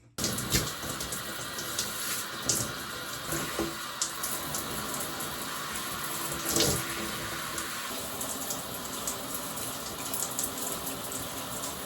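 Steady water from a shower runs continuously in a bathroom, a broad close hiss with small splashes and fluctuations throughout and no voices.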